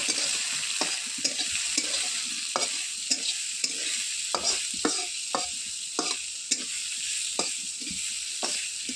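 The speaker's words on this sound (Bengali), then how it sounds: "তারপরে পেঁয়াজটাকে নাড়াচাড়া করে নেব।" Chopped onions frying in hot oil are stirred with a utensil, giving a constant sizzling hiss punctuated by regular sharp scraping clacks against the pan, close and clear.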